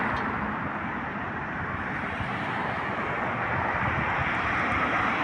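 A loud, steady car engine roar with a rough, broadband rumble from four exhaust pipes holds constant throughout, close and unbroken.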